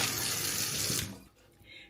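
Tap water runs steadily over a large piece of salmon in a kitchen sink, a close, continuous splashing rush for about a second before it cuts off and goes quiet.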